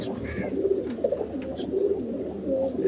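Several pigeons coo nearby in a loft, soft repeated low calls over a steady murmur of background noise.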